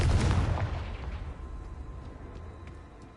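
A Confringo blasting spell cast in Hogwarts Legacy sets off a single deep explosive boom that rolls out into a fading rumble with faint ticking debris.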